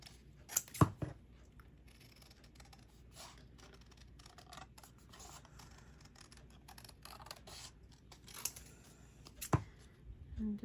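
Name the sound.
scissors cutting out pieces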